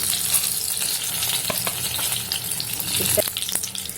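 Small brinjals fry in hot oil with a steady close sizzle and crackle, broken by a few soft stirring clinks and pops, no talk.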